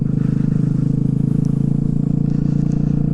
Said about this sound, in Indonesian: suara knalpotnya itu bikin kita apa ya, kayak ngerasa seneng gitu naik motor ini